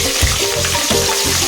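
Pieces of rui fish fry in hot mustard oil with a loud, continuous crackling sizzle, close up and steady, with small rhythmic pops throughout.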